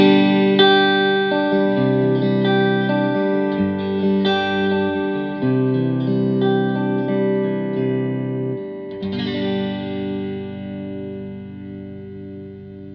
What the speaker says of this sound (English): so that's the sound of the Fender Blues Junior 30th anniversary